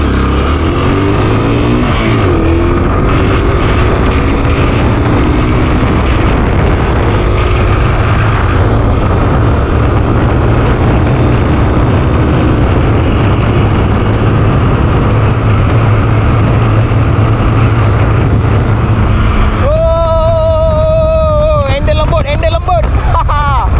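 A Honda Dash engine revs in neutral gear, a loud, close, continuous roar with the pitch climbing sharply near the end.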